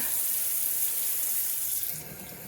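Water streaming steadily into a container of flour for sourdough starter, a close, continuous splashing rush that eases off near the end.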